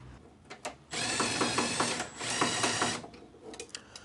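Ratchet tightening a nut on a chassis-mounted splitter of a widebody Alfa Romeo Giulietta: close, rapid clicking strokes in a few bursts, with brief pauses between and quieter handling noises at the start and end.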